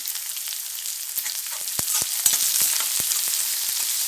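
Steady, bright sizzling of shallots frying in hot oil, with scattered sharp pops and crackles throughout.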